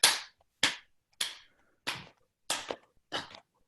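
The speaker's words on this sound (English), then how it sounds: "And you could take it into a clap." Six crisp hand claps in a steady rhythm, close and clear, each followed by a short silence.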